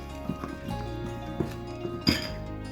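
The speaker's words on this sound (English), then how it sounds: "I'm just going to keep mixing it" A utensil mixes chocolate and cream in a bowl, making quiet, sparse clinks and taps against the side over a steady background hum, with one firmer knock near the end.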